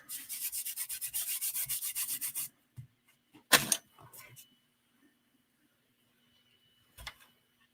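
An Embossing Buddy pad rubbed over card stock makes a close, steady run of dry rubbing strokes for about two seconds. A few faint scrapes and handling taps follow, with near silence between them.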